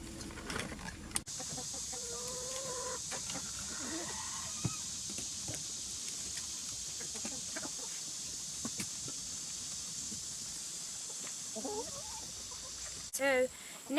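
Chickens cluck softly in a coop against a constant hissing background, with scattered faint clucks and a few sharper calls near the end.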